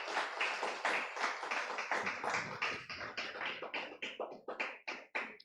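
A congregation claps together in a church service, a dense burst of many hands that thins into fewer, sharper claps toward the end, with no talk over it.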